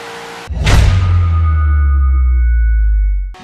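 A Corvette in Forza Horizon 3 bursts into a loud, close engine roar with a sharp rising onset, settling into a deep sustained rumble with a steady whine before cutting off abruptly.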